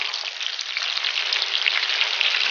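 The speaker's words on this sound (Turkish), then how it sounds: "Kızarmaya başladı. Çeviriyoruz" Coated peppers frying in hot oil give a steady, bright sizzle with fine crackling bubbles, close and even, with no voices.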